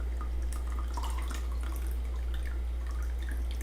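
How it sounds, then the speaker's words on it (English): Lemon juice trickling from squeezed lemons into a salad bowl in a home kitchen, a steady wet dribble with faint drips over a low constant hum, no voices. "I'm gonna pour the lemons in there, lemon juice in there."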